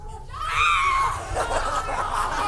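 A person screams while jumping onto another person's back during a live group game, a loud rising shriek over a noisy room with others laughing and calling out.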